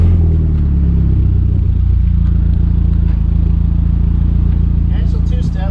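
A VW MK4 GTI with a stainless turbo-back exhaust idles and revs loudly in a steady, heavy drone, and a brief crackle comes near the end.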